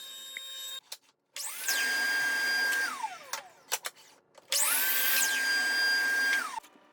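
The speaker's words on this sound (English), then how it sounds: "I can trim everything over to its final dimensions at the table saw and the miter saw" Power saws trim wood boards in a workshop, a table saw and a miter saw: two long whining cuts, each spinning up to a steady loud roar then winding down, with brief knocks between.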